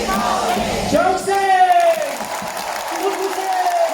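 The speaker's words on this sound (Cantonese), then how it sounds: "掌聲！" A large concert crowd at Hong Kong's Queen Elizabeth Stadium applauds loudly and steadily, with shouts and whoops rising through it and a voice calling out over the noise.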